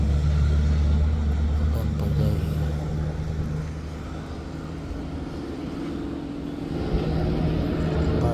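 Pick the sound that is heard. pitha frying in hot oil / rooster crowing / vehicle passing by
vehicle passing by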